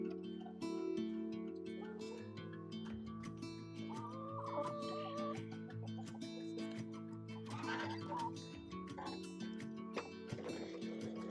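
A hen disturbed in her nest box in a suburban Melbourne backyard makes tonal, clucking and gobble-like calls that run steadily at close range with no talk over them.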